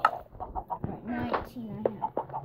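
Video game chickens cluck in a Minecraft-style missile wars match, several short clucks and squawks close up, with a person talking at the same time.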